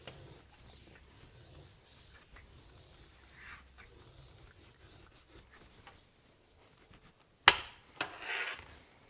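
Leather belt layers being burnished together by hand: low, steady rubbing and friction strokes in a quiet room, followed by a couple of sharper bursts near the end.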